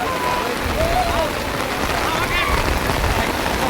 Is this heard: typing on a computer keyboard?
no